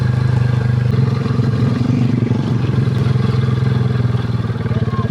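Motorcycles ride along a narrow rural barangay road by a church amid rice fields in Basey, a steady close engine drone with clattering and revving that continues throughout without a break.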